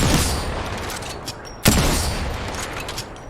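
Gunfire in Apex Legends during a firefight, with dense rapid shots throughout and a sharp louder burst partway through, close and loud.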